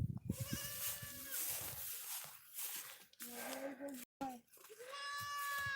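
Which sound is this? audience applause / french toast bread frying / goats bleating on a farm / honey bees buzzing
goats bleating on a farm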